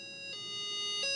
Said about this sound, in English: And it cranks up this siren.